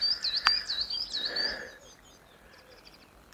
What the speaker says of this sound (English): The only sound you hear is some birds